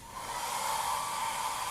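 A hotel room hair dryer in a Manila hotel blowing steadily, a close, even whooshing hum with a high whine that starts up and holds for under two seconds, no talking.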